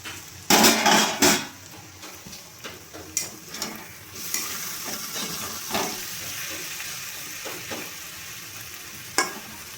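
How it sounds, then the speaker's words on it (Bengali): A lid comes off a pot of cooking bottle gourd with two sharp metallic clatters, followed by a bubbling sizzle and scattered clinks and scrapes of utensils against the pot, close and without voices. "এবার ঢাকাটা খুলে দেখে নেব।"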